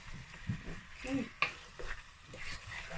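Edikang Ikong soup stirred in a pot, with soft scraping and a few sharp clinks of a spoon against the pot, quiet and close, over faint background noise.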